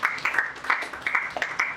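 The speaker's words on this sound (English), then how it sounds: "please give a round of applause to our CEO" Scattered applause at an annual general meeting for the CEO, a brief, uneven patter of a modest number of hands clapping in quick irregular bursts.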